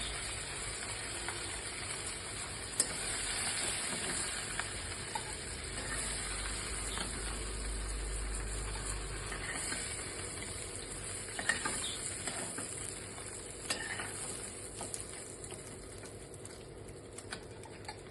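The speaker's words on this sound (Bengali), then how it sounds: "দেখুন চিংড়ি মাছগুলো ভাজা হয়ে গেছে," Prawns frying in mustard oil in a pan, a steady sizzle and hiss with small pops and crackles throughout, close and continuous.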